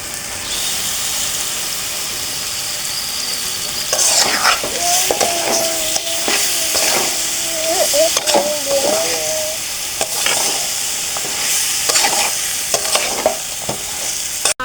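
Desi chicken pieces sizzle and fry in spice masala while a utensil stirs and scrapes the pan in repeated strokes, close and steady, with a faint hiss of steam throughout.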